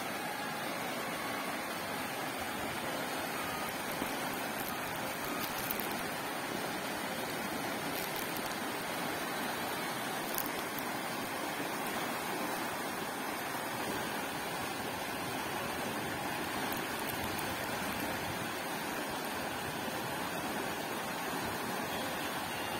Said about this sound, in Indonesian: Airnya deras sekali ya, nggak seperti biasanya ya.